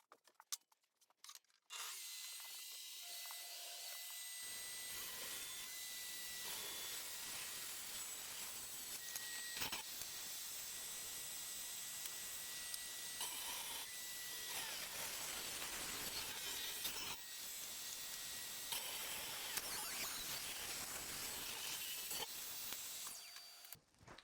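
A table saw rips 8 mm thick beech boards for Festool Domino tenons, a loud, continuous, close whine and cutting roar that starts abruptly after a brief click and runs steadily to the end, with no talking.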